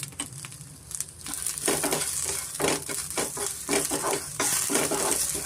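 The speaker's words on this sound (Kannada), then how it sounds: "ನುಗ್ಗೆ ಸೊಪ್ಪೆಲ್ಲ ಚೆನ್ನಾಗಿ ಎಣ್ಣೆಯಲ್ಲಿ ಫ್ರೈ ಆಗಿದೆ" Drumstick leaves fry in oil in a pan, giving a rising crackly sizzle with rustling, crunchy stirring strokes that grow louder and stay steady toward the end.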